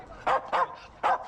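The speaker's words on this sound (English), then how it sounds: "Right, okay, pet the dog." A dog gives three short, sharp barks close by in quick succession, loud and clipped, with little else around them.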